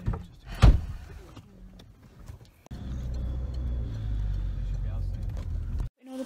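Car doors open and shut while plants are loaded into a car on moving day, with a sharp thud early on followed by a steady low rumble of the vehicle and movement; people talk throughout.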